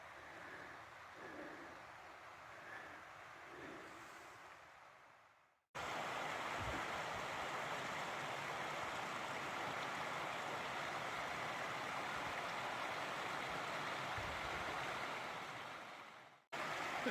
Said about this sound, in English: Really beautiful little creek, natural ravine area.